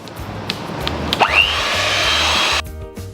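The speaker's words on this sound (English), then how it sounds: "Now we will be whisking this for 10 minutes." Mango ice cream mixture of fresh cream is whisked with an electric mixer, a steady close whirring drone that holds for a couple of seconds before cutting off abruptly, with a few faint knocks at the start.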